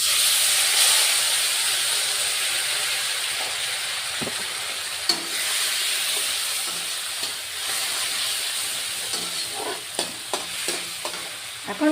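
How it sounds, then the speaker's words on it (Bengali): Tomato paste frying with onions and a bay leaf in a pan for a rohu fish curry, a steady hissing sizzle up close, with occasional scrapes and taps of a stirring spoon building toward the end. "বেটে রাখা টমেটো পেস্ট করে রেখেছি টমেটো পেস্টটাও দিয়ে দিলাম"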